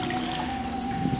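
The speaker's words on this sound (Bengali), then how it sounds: "সম্ভবত দ্বিতীয় বেসিনের ট্যাপে কোনো রকম ফল্ট আছে।" Water runs and trickles steadily from a faulty bathroom basin tap, a continuous close hiss with a thin steady whine, heard alone with no talking.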